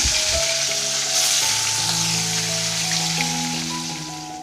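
Fish sizzling and frying in a hot pan in a home kitchen, a steady loud crackle with a few stirring sounds throughout and no talking.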